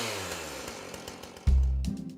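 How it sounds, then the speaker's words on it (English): A chainsaw in a creepy barn sputters and winds down with a falling, rough mechanical whine, then a sudden heavy low grinding burst that fades off. "Suddenly the chainsaw just grinds to a halt."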